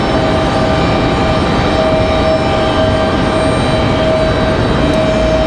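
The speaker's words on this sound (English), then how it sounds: "Got a Southwest touching down over on the backside from Atlanta" Continuous loud engine roar and rumble of a Southwest airliner touching down at Raleigh Durham airport, heard from a distance as a steady wash of noise.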